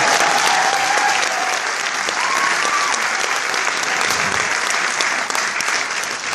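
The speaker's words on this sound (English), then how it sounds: "Give him a round of applause." Audience applause at an Elvis Presley impersonator's live show, loud sustained clapping from a crowd that holds steady for several seconds, with faint voices mixed in.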